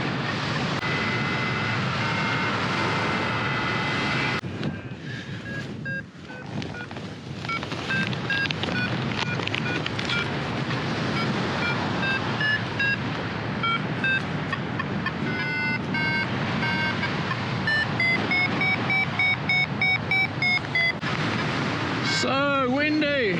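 Strong wind buffeting a paraglider flying on full speed bar along a ridge: constant loud roaring rush of air over the microphone, with whistling tones, throughout.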